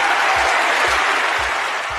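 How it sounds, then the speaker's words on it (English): Loud, dense applause from an audience at a film screening event, close and continuous, with low rhythmic thumps pulsing underneath the clapping. "I'd like a round of applause for them,"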